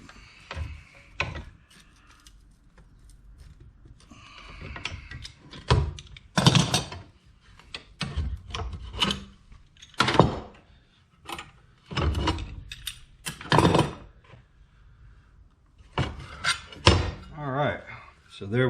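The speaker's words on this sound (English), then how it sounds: "I just use this pipe wrench to bend it, start it bending anyways." A pipe wrench levers and bends a length of metal channel for a garage door opener mount, giving a series of sharp metallic clanks and ratcheting creaks, some loud and close, spread irregularly between quieter handling noise.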